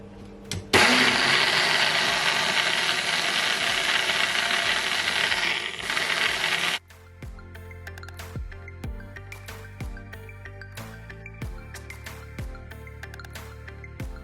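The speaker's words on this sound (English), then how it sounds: "So now guys, I'm gonna blend it all up" A blender purees ingredients for Caribbean carrot punch, a loud, steady motor roar that runs about six seconds and then cuts off abruptly, followed by quieter clinks and knocks.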